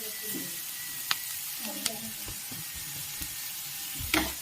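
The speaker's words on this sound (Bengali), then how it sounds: "আমি হালকা একদম লাল লাল করে ভেজে নেব।" A soft, continuous frying hiss comes from a pan of semolina being toasted until lightly reddish, broken by a few sharp spoon taps against the pan, heard close and without talk.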